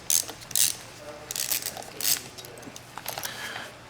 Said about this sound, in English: it's a Torx 20 bit to simply remove these 3 Torx bits